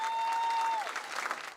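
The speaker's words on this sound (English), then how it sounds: "Passionate cheering" Applause and cheering from residents packed into a community meeting at Verdi Elementary over a proposed processing plant, a steady near crowd din under a sustained electronic tone that fades out partway through.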